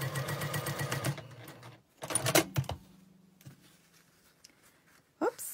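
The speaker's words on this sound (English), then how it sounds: "You sew right across the tip." A sewing machine stitches across the tip of a quilt block seam, a fast buzzing run of needle strokes up close, then a brief second burst with a few clicks and handling noises around quieter pauses.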